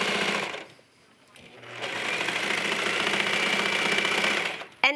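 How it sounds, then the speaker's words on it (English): A serger overlock machine stitches a seam on leggings fabric, a steady close mechanical whir that stops briefly, then runs continuously for several seconds before a short click at the end. "we're going to sew this entire seam with the serger"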